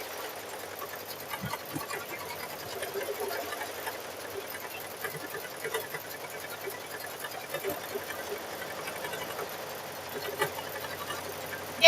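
A sewing machine quilting Christmas quilts for grandchildren, running as a steady, even whir at moderate volume, with faint voices at times under the motor.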